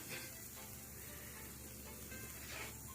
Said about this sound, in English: Alright, we're gonna put this bacon on